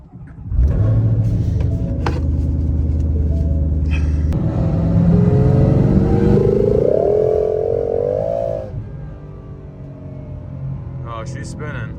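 A 1200-horsepower Ford Shelby GT500 roars loudly as its wheels spin, the engine pitch climbing and wavering in a long surge before easing off, with voices talking over it.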